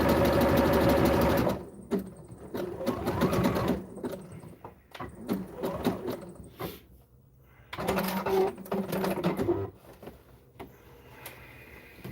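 A serger overdue for new needles and cleaning stitches wrestling tights, whirring loudly in several close bursts that start and stop, with short pauses and faint clicks between runs.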